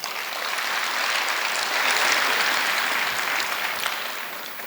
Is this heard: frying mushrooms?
no